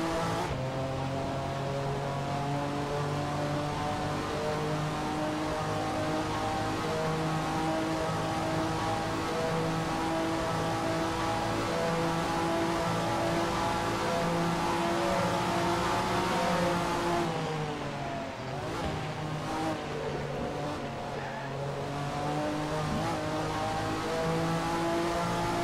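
A race car engine in NASCAR Racing 2003 at a steady high drone with rich harmonics, holding for a long stretch before dipping briefly as another car is passed, then climbing back up to full revs.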